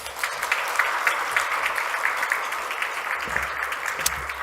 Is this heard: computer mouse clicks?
no